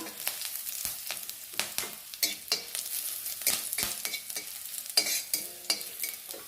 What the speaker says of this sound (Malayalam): ഉള്ളി ഇതുപോലെ നന്നായിട്ട് ചുവക്ക തന്നെ വറക്കണം ഇതിലേക്ക് കുറച്ച് കറിവേപ്പിലയും കൂടെ ഇടാം